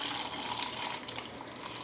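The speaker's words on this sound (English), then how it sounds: "Okay, so we're gonna pour this out." Kombucha tea pours into bottles, a steady, soft liquid splash with no voices, brief and fairly quiet.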